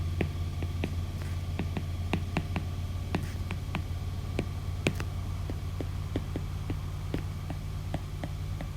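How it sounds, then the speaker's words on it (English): A loud washing machine runs steadily, a constant low hum and throb with repeated clicking knocks at an uneven rhythm throughout. "The washing machine is so loud."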